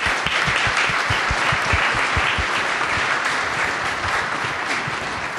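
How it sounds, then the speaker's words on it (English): Sustained audience applause fills the room after a panel session on marketing indoor-grown produce, dense and steady clapping throughout with no talk over it. "Please, round of applause."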